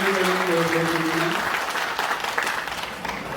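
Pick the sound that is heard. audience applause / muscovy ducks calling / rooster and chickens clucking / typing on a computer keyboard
audience applause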